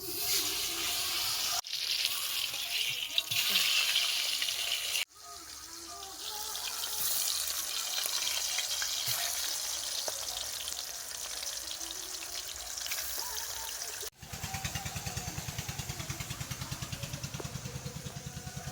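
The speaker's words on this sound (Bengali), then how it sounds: "দেখি একটা মাছ দিয়ে দেখি কড়াই এখন লেগে যাচ্ছে কেমন কড়াটা তো বেশ গরম হয়েছে" Pangas fish frying in oil in a hot wok, a steady broad sizzle that carries on for a long stretch, with a few abrupt cuts and a shift in tone toward the end.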